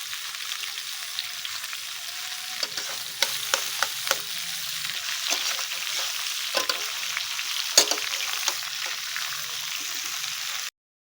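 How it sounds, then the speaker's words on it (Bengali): Mango pieces fry in hot oil with salt and a little turmeric while being stirred in a pan for sweet mango pickle; a steady close sizzle carries scattered scrapes and clicks of the spoon, with no talking. "এবার এটাকে ভালো করে নাড়ি"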